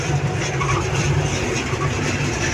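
Loaded sugar lorry cars roll on narrow rails into a storage warehouse at a sugar mill, making a steady, close, low rumble with faint clatter and no talking.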